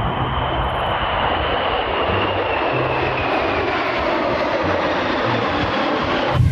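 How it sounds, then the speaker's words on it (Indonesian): An SU-35 fighter jet flies past, a loud, sustained roaring engine drone with a slowly shifting whine that fills the whole stretch, steady and close, with no speech. "Wah, ini jet tempur SU-35."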